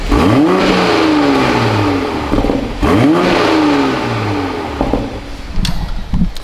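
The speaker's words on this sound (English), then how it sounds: "Exhaust sounds the same. That was valves closed." A 2020 Toyota Supra revs hard twice with rising, falling exhaust roars, exhaust valves closed, then settles into a lower rumble with small blips; loud and close, no talking.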